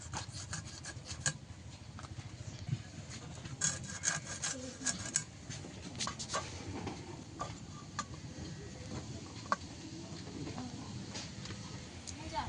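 A knife saws and rubs through a hilsa fish to remove its head, producing close, scratchy, rasping strokes with scattered sharp ticks and taps over about twelve seconds, with no speech.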